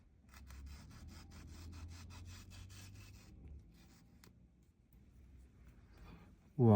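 A knife saws through a Findaki (R2E2) mango, a close, soft scraping and rubbing stroke pattern for several seconds before tapering off, ending with a sudden loud burst of voice.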